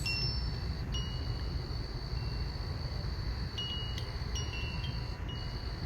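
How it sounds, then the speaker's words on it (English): Koshi chimes ring softly in a few scattered, delicate tones over a faint, steady cricket drone. The ringing is gentle and distant, and no one speaks. "and even catching the sound of the chime."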